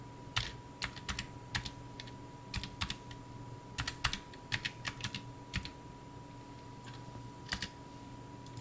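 Typing a user ID on a computer keyboard: crisp, irregular clusters of key taps at close range over a faint steady hum, with short pauses between bursts and no talking.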